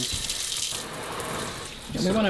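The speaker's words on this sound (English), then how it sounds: "we're gonna turn the cold water on" Cold water running from a kitchen tap, a steady broadband rush through most of the moment, with people talking over it toward the end.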